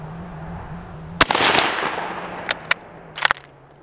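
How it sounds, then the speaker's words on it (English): Sharp rifle gunshots from a 30-40 Krag Model 1896, one loud crack followed by a decaying echo, then a few fainter, shorter reports afterward, heard outdoors with no talking. "Got it on the first shot."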